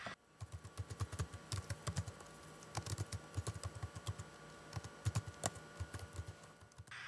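Quick bursts of computer keyboard typing while code is entered, crisp close clicks in uneven clusters with short pauses, alone in a quiet room.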